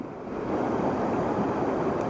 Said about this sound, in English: It's real strong winds today. It's supposed to be like 22 miles an hour, and it is, but around here it's kind of calm, but it's just gusting.